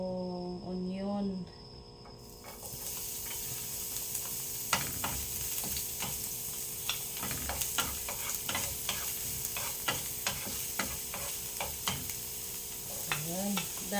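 Garlic and onion frying in oil in a pan, a continuous close sizzle with scattered crackles and spatters, preceded by a brief voice and quieter moment before the sizzle starts.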